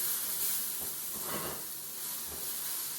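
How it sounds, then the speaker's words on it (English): Mushrooms sautéing in a pan for a bacon and caramelized onion quiche, a soft, steady sizzle and hiss close up with a gentle swell in the middle. "making sure that they're all sauteing"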